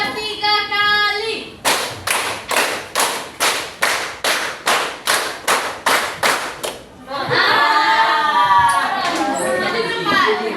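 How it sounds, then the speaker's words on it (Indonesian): A class of children claps in time, about a dozen sharp, evenly spaced claps in a steady counted rhythm, with a teacher's voice leading before and children's chatter rising afterward. "Tepuk 4 3 kali."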